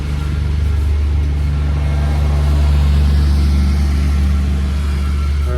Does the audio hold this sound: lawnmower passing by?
yes